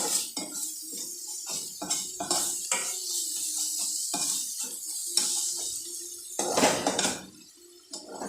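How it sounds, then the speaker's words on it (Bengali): Ginger and onion paste fries in a pan, a soft sizzle broken by repeated metal spoon scrapes and clinks against the pan, close and fairly quiet with no talking. "এবার আদা আর পেঁয়াজটাকে খুব ভালো করে আমি ভাজা করে নেব"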